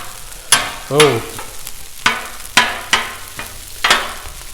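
Turkey fried rice sizzling on a Blackstone griddle, with a steady loud fry broken by regular scraping strokes of a spatula about every half second, plus one brief exclamation.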